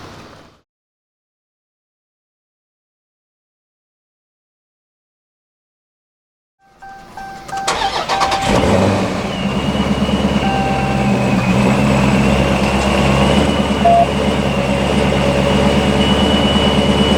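Engine of a supercharged Dodge Charger Scat Pack starts after several seconds of silence, then runs at a loud, steady low idle with a deep rumble throughout.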